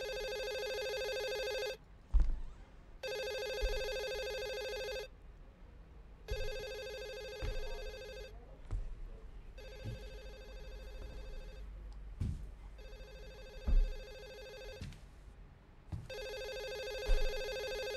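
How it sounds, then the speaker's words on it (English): A telephone rings in the horror game Hazing - Night Shift, repeating in regular bursts separated by short pauses, clear and fairly close, with occasional thumps and footsteps between rings. "Where's the phone? Is that upstairs?"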